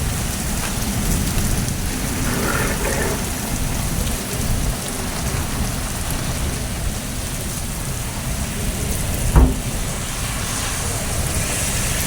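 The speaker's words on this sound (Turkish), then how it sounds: "Dışarıda da yağmur yağıyor" Heavy rain pours down steadily, a dense continuous hiss with a single sharp knock near the end.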